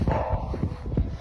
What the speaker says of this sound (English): You can really hear her barking.